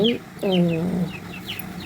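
Hens cluck in a shed, a few close, loud warbling clucks in quick succession.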